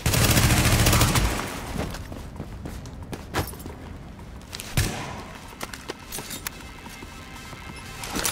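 Gunfire from The Division, in the game's survival mode, opens with a loud sustained burst. Scattered sharp single shots and short volleys follow against quieter game ambience.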